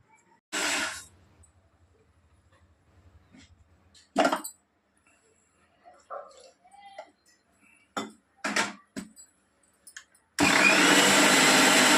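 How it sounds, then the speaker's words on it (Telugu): A mixer grinder grinding spices whirs in short bursts separated by quiet gaps and small clicks, then runs loudly and continuously at the end. "ఇది మిక్సీ పట్టేస్తాను"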